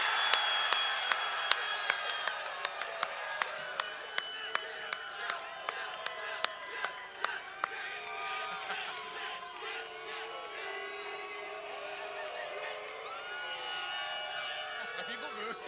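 At an AEW Double or Nothing wrestling rally in Jacksonville, a crowd chants "Jubal" in a low, drawn-out drone that resembles booing, mixed with scattered claps and camera clicks while people talk over it.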